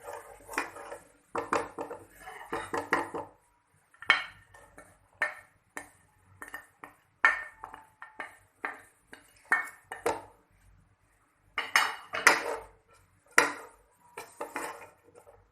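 Vegetables being mixed with vinegar in a bowl, a long run of irregular clinking and scraping of a spoon against the dish, close and fairly quiet, with short pauses between bursts of stirring.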